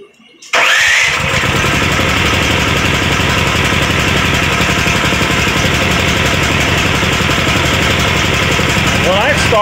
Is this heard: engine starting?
yes